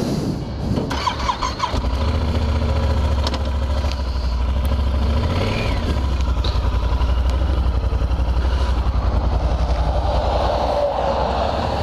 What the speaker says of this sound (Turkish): bizim tren geçiyor gene karşıdan